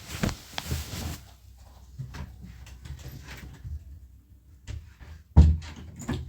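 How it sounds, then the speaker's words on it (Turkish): A door is shut indoors: a few soft knocks and rattles early on, a quiet stretch, then one solid thud near the end, heard alone with no talking. "Bir saniye ben bir kapıyı kapatayım."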